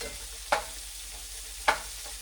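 Spiced zucchini and tofu cooking down in a pan, a steady soft sizzle with two brief stirring scrapes against the pan, close and moderately quiet.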